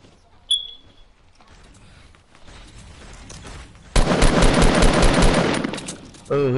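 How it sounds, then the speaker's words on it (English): Gunfire in the video game Fortnite: a sharp shot early, then quieter distant clatter, building into a loud sustained burst of rapid automatic fire for a couple of seconds before another blast at the end. "Oh, who's shooting? Who's shooting?"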